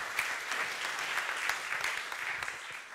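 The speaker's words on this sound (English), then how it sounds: "We'll get some applause for you, I think would be good" An audience applauds with sustained, dense clapping that stays fairly even and full for the whole stretch, with no voices rising above it.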